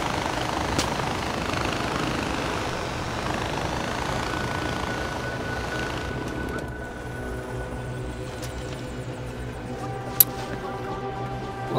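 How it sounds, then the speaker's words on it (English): A helicopter engine in the video game Far Cry 4 drones steadily and loudly, its whine and rotor hum shifting to a smoother, tonal idle partway through, with a brief sharp click near the end. "Get in the chopper."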